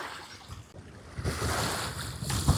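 Waves washing onto a sandy beach along the John Muir Way near Edinburgh, a gentle surf wash with gusty wind rumbling across the microphone, no voices.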